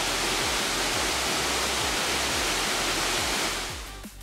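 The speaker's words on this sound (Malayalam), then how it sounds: "ഇതിൻ്റെ മുകളിൽ കയറിയാൽ കുറച്ചുകൂടി ഭംഗിയായി വെള്ളച്ചാട്ടം കണ്ട് ആസ്വദിക്കാം." Abbey Falls, a waterfall in Coorg, Karnataka, roars as a steady, loud, dense rush of falling water up close, easing slightly toward the end.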